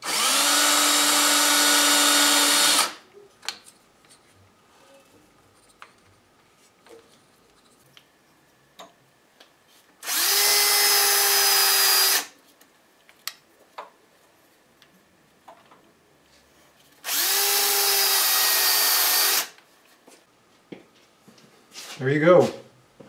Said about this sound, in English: Hook up my drill.